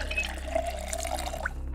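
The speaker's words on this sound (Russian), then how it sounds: "Набрать воду." Water being drawn from a tap in the zombie survival video game Project Zomboid, a steady trickling and splashing stream with a low hum beneath, cutting off near the end.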